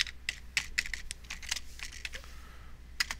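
Quick keystrokes on a computer keyboard click in irregular bursts, a few taps at a time with short pauses, fairly close and moderately loud against a faint low hum.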